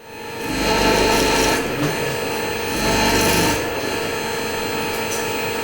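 A resin-cast souvenir made from scrap tank metal is ground and shaped in a workshop, a loud, steady rasping grind that swells in two stronger passes before settling into a continuous hum.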